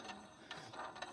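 A ratchet wrench tightens down a motorcycle mount at a foot peg, giving a few quick, faint clicking strokes close by.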